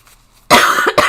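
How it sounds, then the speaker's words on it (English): One loud, close cough bursts out after a near-silent moment, followed quickly by a second harsh cough. "Excuse me, I'll stop coughing."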